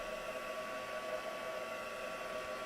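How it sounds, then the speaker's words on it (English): A heat tool drying craft paint during a Christmas-in-July demo, giving a steady whooshing blower hiss with a faint whine, close and constant with no talking. "if you don't have time like me, then you have to use your heat tool"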